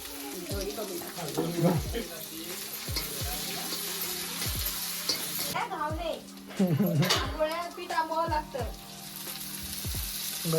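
Cut okra sautés in a pan over a wood-fired clay stove in an old Konkan mud house, a steady sizzle with occasional stirring scrapes running under nearly continuous close talk.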